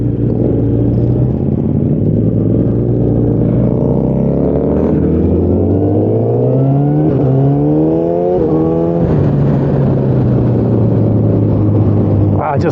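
A Yamaha FZ1 motorcycle is ridden hard, its engine note climbing steadily and then dropping sharply at several quick-shifter gear changes, loud and continuous over wind noise, with a voice speaking underneath.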